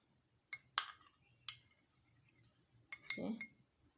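A spoon clinks against a glass or cup while stirring a honey mixture, a few separate sharp chimes spaced irregularly, close but quiet.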